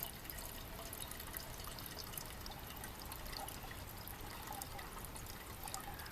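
Water trickles and pours into a 12 cm Imusa cup at a trail shelter, a quiet steady stream with faint drips running throughout and no talking.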